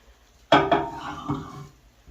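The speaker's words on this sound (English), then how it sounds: "I'm just going to stick this whole bowl right in the microwave." A bowl of bread dough set down inside a microwave: a sharp clunk followed by a few quick knocks and a softer bump, close and clear in a quiet kitchen.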